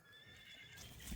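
A young Kyrgyz horse gives a short neigh, with hooves thudding at the very end, faint and brief.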